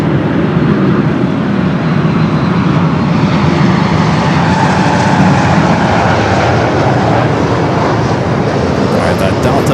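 Delta jet lined up at LAX, a 27-year-old Boeing 767 bound for Atlanta as flight 395, its engines giving a steady, loud broadband roar that fills the scene without letup, with a voice talking over it.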